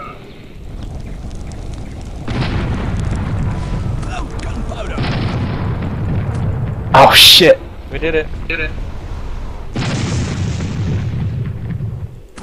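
Explosions in the airship combat game Air Buccaneers, several heavy rumbling booms in separate bursts, one sharper blast in the middle, with a player's excited voice over them.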